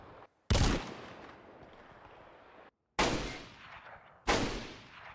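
A Blaze rifle fires in the DayZ video game, giving three sharp, punchy shots indoors. Each shot is loud and close and is followed by a long, fading reverberant tail, with irregular gaps between the shots.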